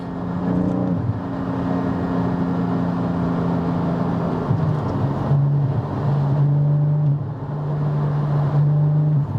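A Porsche GT4's Milltek aftermarket exhaust roars continuously as the engine accelerates with valves open, the deep drone shifting pitch as it climbs through gears, loud and close.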